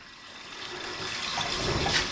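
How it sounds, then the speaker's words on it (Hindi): Water falls and splashes steadily into the spin tub of a semi-automatic washing machine, a hissing, trickling flow that grows slightly louder toward the end. "ये पानी थोड़े थोड़े इस स्पिन वाले टब के अंदर गिरते रहने से यही पानी ड्रेन लाइन के थ्रू ड्रेन होकर"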